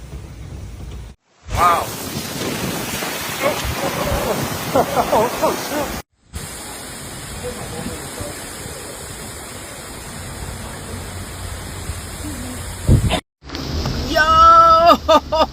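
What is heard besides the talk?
microburst storm wind and heavy rain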